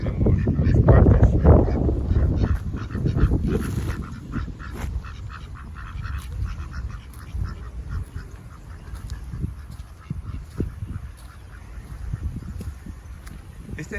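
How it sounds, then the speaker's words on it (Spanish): Ducks quack along a lakeshore path by a breakwater, a mix of nearby and farther calls over steady outdoor background noise, loudest early and then scattered and fainter. "Aquí tenemos a los patos."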